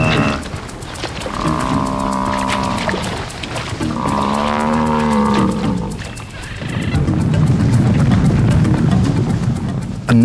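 African buffalo bull lowing amid the herd in marshy ground, two long drawn-out moaning calls close by over a steady noisy background, then rougher rumbling herd noise.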